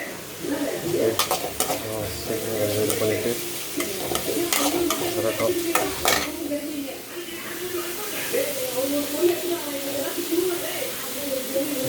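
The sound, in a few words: onions sautéing in a pan for kothu chapati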